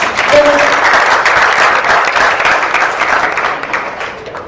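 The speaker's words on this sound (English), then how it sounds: "A round of applause for Charlie, please." Steady applause from a crowd, dense and fairly loud, holding throughout and tapering slightly toward the end.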